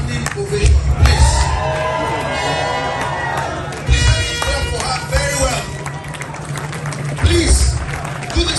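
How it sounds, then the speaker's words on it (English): A standing ovation for a woman at a gathering honoring the Ooni's daughter: crowd cheering, whoops and clapping swell and surge under loud amplified speech. "I want you to give her a standing ovation, please"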